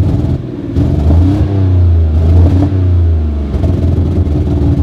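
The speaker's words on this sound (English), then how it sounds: "key on, and I mean, it idles okay." A Mitsubishi 3000GT VR4 engine in poor condition idles unevenly, a loud, close, continuous low rumble that wavers and surges with faint clatter throughout, with no talking.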